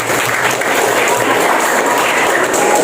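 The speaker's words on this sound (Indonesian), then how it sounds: "Oke, kita kasih aplaus." Classroom applause in an economics lesson, a dense steady patter of many hands clapping at close range for nearly three seconds with no pause.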